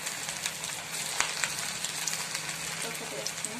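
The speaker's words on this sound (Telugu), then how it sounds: "మీడియం ఫ్లేమ్లోనే ఇవి మనం డీప్ ఫ్రై చేసుకోవాలండి" Street-style chicken pakoda deep-fries in oil over a medium flame, with a continuous close crackling sizzle dotted with small pops and a faint voice in the background.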